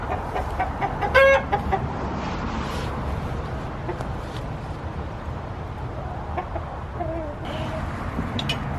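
Backyard chickens cluck softly and intermittently as a new hen is placed into the flock, with one sharp louder squawk early on, under a steady ambient outdoor background.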